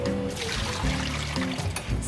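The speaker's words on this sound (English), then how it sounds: "And pour the water out." Water is poured out of a vinyl bowl mold in a short splashing, trickling spill, loud and close.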